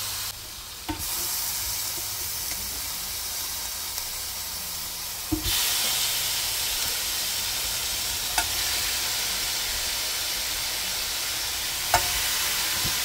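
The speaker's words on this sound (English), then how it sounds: "I'm going to go ahead and put the pineapple skewers on." Pineapple skewers sizzling on a grill heated to 500 degrees make a constant loud hiss that swells noticeably partway through, with a few faint clicks and taps scattered over the steady frying noise.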